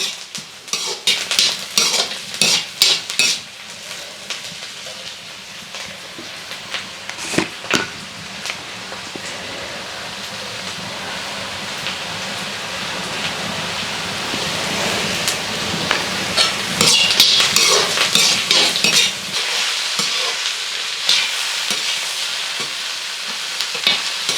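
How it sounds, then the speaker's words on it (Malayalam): Steady frying sizzle in a pan as onions, green chillies and ivy gourd are sautéed, with repeated scraping and stirring clatter from a utensil, loud and close, no voices. "സവാളയും പച്ചമുളകും ഒന്ന് വഴട്ടി കോവയ്ക്കയും കൂടി ഇട്ട് നന്നായിട്ട് വഴട്ടി മെഴുക്ക് വരട്ടിയാക്കി എടുക്കാം"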